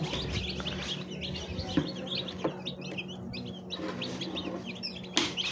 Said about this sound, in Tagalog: At ayan, nandito na ang ating mga sisiw